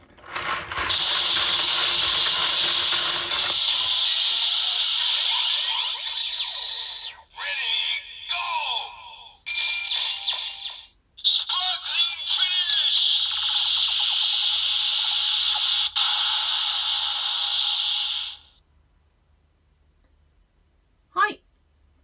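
Kamen Rider Build Driver toy with the Rabbit Tank Sparkling bottle playing its finisher effect, a loud electronic jingle and synthesized sound sequence with brief pauses, ending in silence and a single click.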